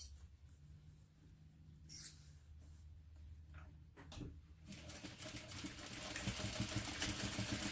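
A sewing machine bastes along the bottom of pleats, its fast mechanical whirring starting partway through and running steadily and close.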